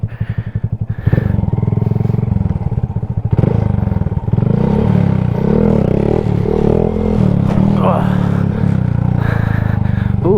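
A motorcycle engine throttles unevenly during a wheelie, loud and close, with choppy revving that rises and dips in pitch, plus some clatter and wind.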